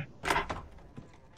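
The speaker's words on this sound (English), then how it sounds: "Guess we can go in this door." A door swings open in the video game The Last of Us Part 2, giving a short, close creak and thud followed by softer settling sounds, with no talking.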